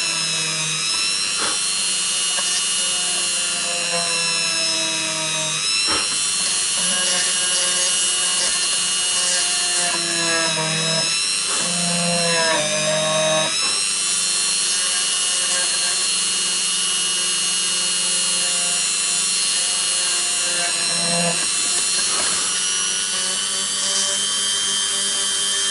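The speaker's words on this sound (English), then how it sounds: "carefully drilling around the wreckage" A power drill whines steadily while drilling out a damaged screw on a Partscaster Strat guitar, with the tone shifting as the bit bites, loud and continuous throughout.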